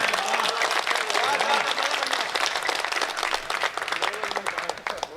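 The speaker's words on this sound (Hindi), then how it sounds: "तालियां कमजोर हैं आपकी।" An audience at a public gathering applauds in a steady, dense wash of clapping that lasts throughout, with a voice speaking over it.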